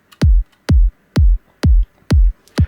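Synthesized EDM kick drum from a free plugin preset, five punchy booming hits with sharp clicky attacks and quick low decays, evenly spaced in a steady four-on-the-floor pulse, loud and alone.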